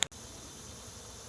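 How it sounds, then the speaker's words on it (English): A swarm of bees drones as a steady faint buzz outdoors near a fence, continuous and unbroken after a brief click at the start. "There's so many doggone bees flying around from that one little shot of Swarm Commander."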